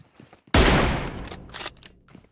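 A single loud sniper shot from an M24 bolt-action rifle rings out in PUBG Mobile, a sharp blast followed by a rolling echo and faint further pops.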